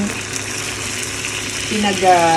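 Chili sautéing in a pan while cooking laing, a steady, close oil sizzle with light stirring and a faint whistling tone toward the end.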